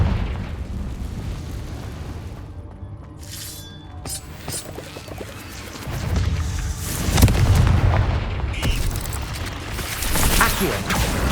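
Fire spells burst into booming explosions in the Hogwarts Legacy video game, with several loud blasts and rumbling eruptions across a cave fight, heavy low rumble swelling toward the end.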